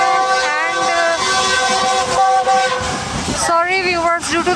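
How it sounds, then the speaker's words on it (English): The Karakoram Express sounds its horn in long, loud, sustained blasts with wavering tones, heard from aboard the moving train over rumbling rail noise. "due to the constant horn I was unable to speak"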